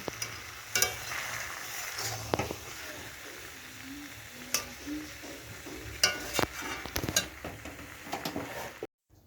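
Pre-fried stingray pieces go into a hot pan of curry and are stirred, giving a low background sizzle broken by sharp scrapes and clinks of a utensil against the pan at irregular intervals, ending abruptly in silence.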